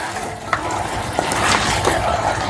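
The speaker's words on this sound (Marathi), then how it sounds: "फुल गॅसवरतीच हे मटण मी फ्राय करते आहे" Mutton fries with masala on a full gas flame, giving a steady, close sizzle with occasional stirring scrapes and spatters.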